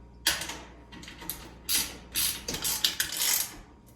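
Bolts are tightened with a ratcheting tool while a VEVOR utility wagon is assembled, giving close, quick bursts of clicking ratchet strokes in an uneven rhythm with short pauses between.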